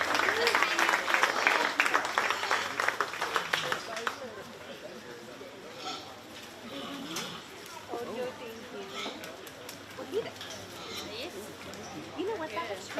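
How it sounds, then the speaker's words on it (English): A county fair 4-H swine show audience claps loudly for champions for about four seconds, then the applause fades into crowd murmur and scattered voices. "Let's give all 3 of our champions of their respective divisions a nice big round of applause"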